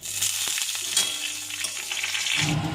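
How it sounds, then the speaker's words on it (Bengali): Whole spices — cinnamon, bay leaf, green cardamom and cloves — crackle and sizzle in a little hot oil in a wok, a dense steady frying hiss close by, with a few sharper pops and a brief stir near the end. "ফোড়নটা ভালো করে ভাজা হয়ে গেছে"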